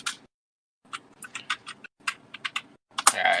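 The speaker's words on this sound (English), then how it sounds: "you can hear me typing away" Keys clack on a computer keyboard in quick irregular bursts, close and crisp, with brief pauses between runs of typing and no talking.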